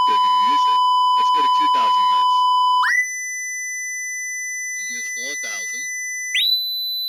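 A 4000 hertz pure tone from a tone generator: a steady electronic whine that steps up from lower tones and sounds loud and alone near the end, after someone talks over the earlier tones.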